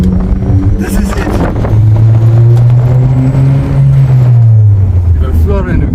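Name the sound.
boosted Honda Civic FD accelerating on highway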